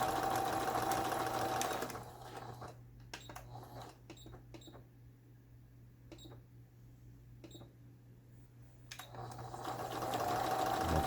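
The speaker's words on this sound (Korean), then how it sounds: "이제 오버룩 대신에 사용되어지는 이런 바느질이죠" A Juki HZL-K85 domestic sewing machine sews a triple stitch used in place of overlocking, a close mechanical whir with rapid rhythmic needle knocks, slowing to sparse clicks in the middle before running up again.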